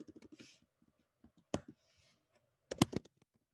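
A Linux install command is typed on a computer keyboard in a few quiet bursts of clicking keystrokes, spaced apart with pauses, close and soft.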